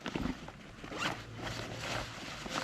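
Zipper on the top inside pocket of a 65-75 liter hiking backpack, pulled in one continuous close rasp lasting a couple of seconds, alone without talk.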